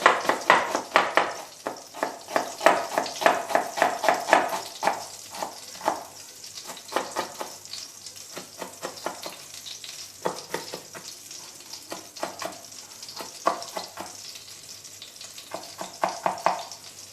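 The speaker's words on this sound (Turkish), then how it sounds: "Biraz fazla sıçrıyor tereyağı ama yapacak bir şey yok." Butter frying in a pan for pezik mıhlama, a Turkish chard-stem dish, sizzles loudly and spatters with dense, continuous crackling pops that ease slightly but keep going throughout.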